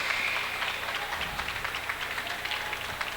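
Crowd applause from Richland fans at a high school basketball game against Gideon, a steady spread of clapping at moderate distance filling the gym.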